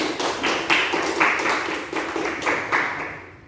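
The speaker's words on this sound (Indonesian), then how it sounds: "Beri aplaus untuk kelompok 1" A classroom audience applauds a student group, a dense burst of clapping that swells and then thins out, fading toward the end with no voices over it.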